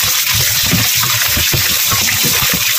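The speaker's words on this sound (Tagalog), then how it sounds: "Ulang na natin ng tubig yan para hugasan" Running water gushes steadily from a tap over raw chicken heads being washed for grilling, a loud close continuous splash with irregular patters as the water hits the meat.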